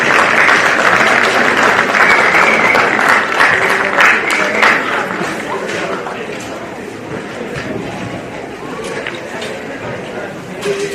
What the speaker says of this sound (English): Big round of applause going for our umpires of today's game.